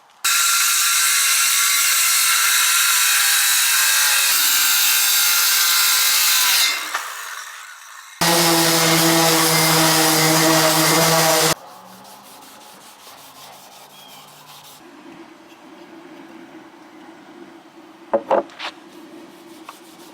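A power saw cuts a panel of an Ikea table, guided along a clamped straight edge. Loud, sustained cutting runs for several seconds, breaks off, then comes back briefly in a harsher, lower tone before dying away to faint handling clatter.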